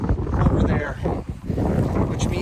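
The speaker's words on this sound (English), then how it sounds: "it's so windy" Strong wind buffets the microphone on a lake shoreline during a canoe trip in Wabakimi, a steady roaring rush throughout with a brief lull near the middle, and a voice talks over it.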